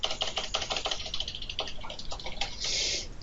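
Quick computer keyboard typing is heard up close, a run of light clicking keystrokes that speed up and slow down, with no one talking.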